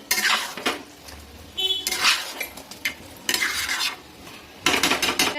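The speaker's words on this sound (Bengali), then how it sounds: "অল্প কিছুটা পেঁয়াজ বেরেস্তা দিয়ে মিশিয়ে নিচ্ছি" Fried onion birista stirred into a dish in a pan, four distinct bursts of metal spoon scraping and clattering against the pan over a low sizzle, close by and with no talking.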